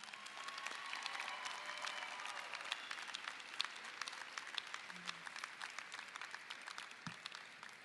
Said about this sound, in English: Seniors, please join me in giving your parents and family members a round of applause.